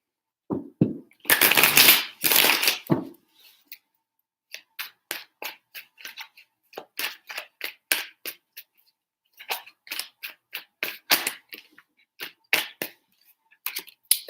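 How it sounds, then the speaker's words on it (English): A deck of tarot cards is riffled close up in one dense burst, followed by a long series of short, crisp flicks and slaps as the cards are cut and shuffled again. "Three shuffles."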